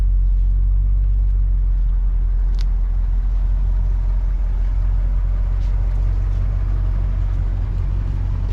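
A 1967 Rolls-Royce on a test drive, its engine giving a steady, close, low rumble with a constant road hum throughout and no voices.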